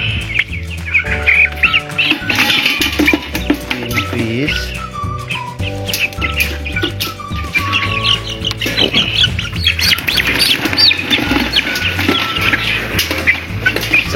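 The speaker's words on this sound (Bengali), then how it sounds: "প্রথমে আমরা 4 পিস মুরগি ধরে নিই।" Broiler chickens squawk loudly and repeatedly while being caught by hand, harsh overlapping cries and chirps filling the whole stretch at close range, no talk.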